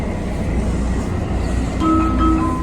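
A carpeted Washington DC Metro 2000 series train rumbles steadily from inside the car, with a sustained low roar and faint high whining tones rising near the end.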